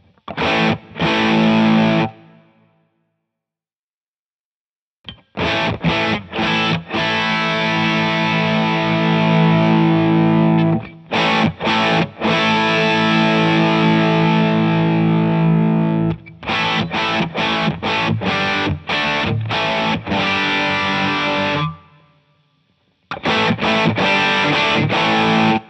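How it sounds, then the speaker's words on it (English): An electric guitar played through a One Control Dyna Red Distortion pedal, giving heavily distorted chords in bursts separated by short silences, close and loud with no voice. "with the Dyna Red BDF, this one has an extra knob that is presence, but it sounds like more like a mid knob."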